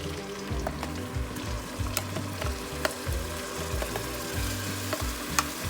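Chopped onion frying and splattering loudly in a hot pan for paneer tikka masala, a steady close crackle of sizzle with sharp pops and spits throughout, no voices.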